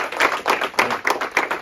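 Quick, bright claps from a small group honouring two staff members at a lycée shop inauguration in Malestroit, irregular and close, filling the short moment with no voices.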